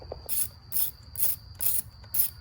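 A ratchet clicks in quick, rhythmic bursts, about five strokes, while a 10mm bolt is backed out of a small bracket near the fuel line on a GMC Sierra truck, close and quiet with no talk.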